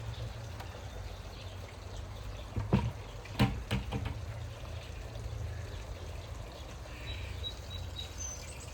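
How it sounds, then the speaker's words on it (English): Continuous trickling and pouring of water back into a newly built swimming pool, with a couple of louder splashy bursts midway and faint bird calls in the background. "the water goes back in the pool"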